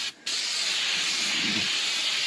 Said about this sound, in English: Spray it. Spray everything.